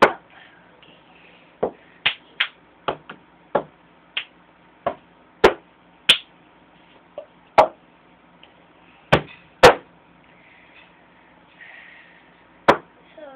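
Cup song rhythm played on a table: sharp, distinct taps and knocks of a cup in an uneven beat, about fifteen crisp hits spaced across the stretch, with quiet gaps between them and no talking.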